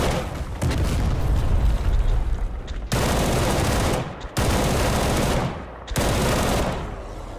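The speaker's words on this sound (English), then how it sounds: "I like the sound of this AK a lot though, so I just dumped a mag into him." AK rifle in the game STALKER GAMMA emptying a whole magazine in long sustained bursts of automatic fire, loud and close, with brief pauses between strings of shots.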